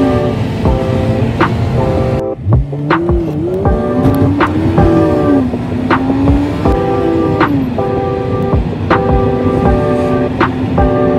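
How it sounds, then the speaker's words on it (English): A manual-transmission car pulls away from a standstill as the clutch is released, its engine note rising and wavering steadily, loud and close throughout with no talk over it. "So now we're gonna put our foot on the gas, ease it off the clutch, and we'll start to move forward."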